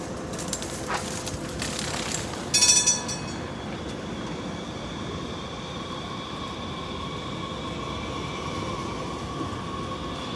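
A J line train rolls in with a steady, heavy rumble of wheels on rails, thin squealing tones running above it and a short clattering burst partway through, heard from the platform without talk.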